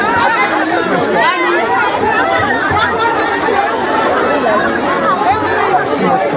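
A dense crowd chatters loudly and continuously at a Nigerian customs sale of confiscated rice, many overlapping voices forming close, unbroken babble.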